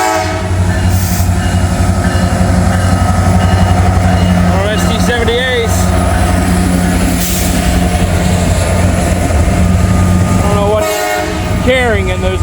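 An intermodal freight train hauling white impact tank cars rolls past at close range, its steady rumble and rail noise joined by wheel squeals and a sounded horn, while someone talks over it.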